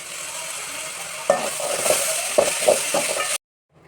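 A spoon stirs chopped tomato, carrot and beans frying in a pan for rava kichadi, with a soft constant sizzle and several distinct scraping, clinking strokes before the sound cuts off abruptly.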